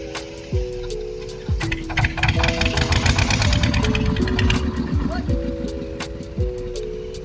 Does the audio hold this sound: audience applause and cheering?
no